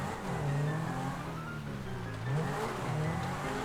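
Several cars drive in GTA Online, engines droning and shifting pitch with a brief tire-squeal edge, steady and fairly close with no talk over them.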